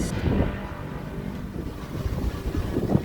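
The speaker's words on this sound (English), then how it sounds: "Oh my god, it's so windy" Strong wind buffets the microphone in low, rumbling gusts throughout, with no voices heard.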